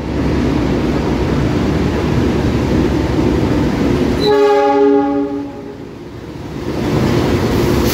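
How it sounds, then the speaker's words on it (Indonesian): An Indonesian Malabar passenger train with stainless steel carriages rumbles past loudly and close, its horn blaring in a long tonal blast midway before the roar eases and then swells again. "Kereta api Malabar."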